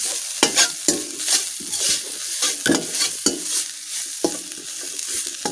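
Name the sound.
grated coconut frying and being stirred in a pan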